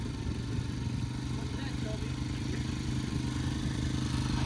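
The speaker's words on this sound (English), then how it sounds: "That's idling high." A 1983 Honda XL250R motorcycle engine idles high with a sticking twist throttle, a steady close rumbling drone with light mechanical clatter throughout.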